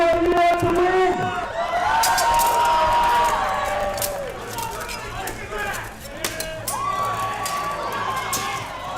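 Audience at a costumed fight event cheering: crowd shouting and whooping in bursts, with a loud voice rising and falling over the noise and scattered claps.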